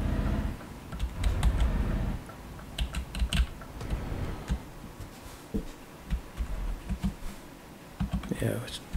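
Computer keyboard keys pressed while driving in Euro Truck Simulator 2 on Debian GNU/Linux, irregular clusters of close, crisp taps and clicks mixed in with someone talking.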